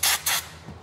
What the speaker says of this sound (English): I'm gonna be using carb spray because I have about 6 cases of it.